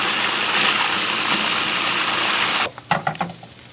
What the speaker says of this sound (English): I'm just going to sizzle up some of this shrimp, the big ones, with some of the sauce